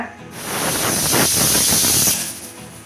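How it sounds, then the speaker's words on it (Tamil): A pressure cooker whistle vents steam in a loud, sustained hiss that swells, holds for about two seconds, then fades. "குக்கர் விசில் வந்துருச்சு, ஓப்பன் பண்ணிடலாம்"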